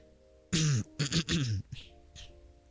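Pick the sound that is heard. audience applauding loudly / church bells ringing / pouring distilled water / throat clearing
throat clearing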